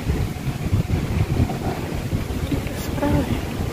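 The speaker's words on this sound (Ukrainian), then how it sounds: "піднявся вітер" Wind gusts roar over the microphone outdoors on a sunny autumn day, a dense, rumbling, fluctuating rush, with a voice faintly heard underneath.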